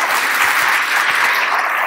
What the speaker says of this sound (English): Give us a big round of applause for that.